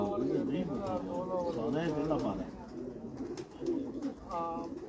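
Pigeons coo in soft, rolling bursts while someone talks nearby over them.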